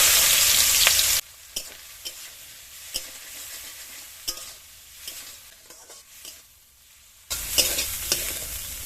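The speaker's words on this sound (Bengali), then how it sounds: "চিংড়ি মাছগুলো এরকম লাল করে ভেজে নিয়েছি" Prawns marinated in salt, red chilli powder and ginger-garlic paste fry in a wok. A loud sizzle opens the sound and returns at the end, with quieter stretches between them broken by stirring knocks and taps.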